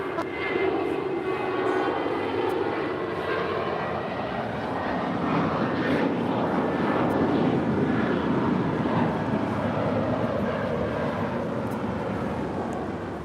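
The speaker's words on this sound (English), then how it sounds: "That was United 1642 departing to Seattle on a 28-year-old A320." A 28-year-old United Airlines Airbus A320 takes off from LAX bound for Seattle, a loud, steady broadband jet roar that holds for the whole stretch with no talk over it.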